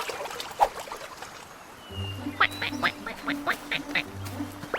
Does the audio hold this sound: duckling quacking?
yes